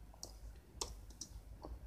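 Clicks of a computer keyboard while someone types in Photoshop or Illustrator, a handful of light, irregular keystrokes close by and quiet.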